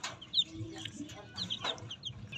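Crossbred Rhode Island Red and ISA White layer hens cluck softly and repeatedly in a crowded coop of sixteen birds, with close, faint calls scattered over a quiet background.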